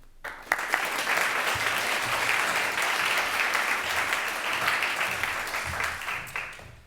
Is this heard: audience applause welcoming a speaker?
yes